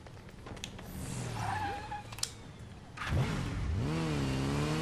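A motorcycle in the game Gotham Knights revs and whines with rising and falling engine tones. It skids and screeches at times, and a few sharp impacts cut through the noise, fairly loud and near.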